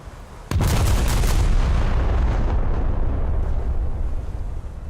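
Battleship main guns fire in World of Warships, aboard HMS Barham, with one sharp, loud boom at the start followed by a long, heavy rumbling roar that slowly fades, no talk over it.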